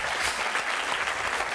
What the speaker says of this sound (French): On peut applaudir très fort Fabien quand même.